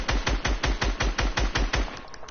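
Gunfire in a video game shoots out metal build structures as a rapid, even string of about a dozen sharp, close shots. The shots run loud and punchy, then thin out at the end.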